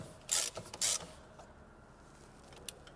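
A wrench ratchets in two quick loud bursts while loosening a brake caliper bolt on a Porsche 911, followed by faint clicks and quiet workshop ambience.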